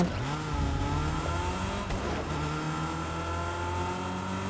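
Car engine revving in a video game, a steady, moderately loud motor drone with rising and falling pitch as it accelerates, no voices over it.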